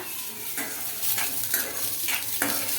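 Ingredients, onions among them, frying in a pan while being stirred, a continuous close sizzle broken by several sharp scrapes of a spoon against the pan about every half second.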